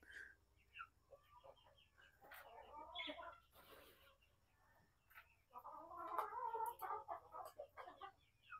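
Chickens cluck and chatter close by while feeding in a coop, with bursts of calls and soft pecking sounds over a low background hum, and a person speaking at times.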